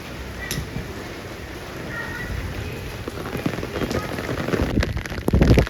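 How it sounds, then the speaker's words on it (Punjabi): Rain patters steadily on a surface, with scattered louder drops and a faint rumble toward the end. "ਸ਼ੇਰੂ ਇੱਧਰ ਬੈਠਾ ਆਪਣਾ ਇੰਜੋਏ ਕਰਦਾ ਮੀਂਹ ਨੂੰ"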